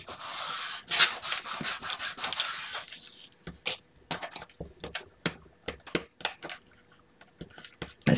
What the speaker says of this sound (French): J'essuie bien la colle au niveau des angles.